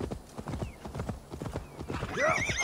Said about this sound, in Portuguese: Ai, cavalo.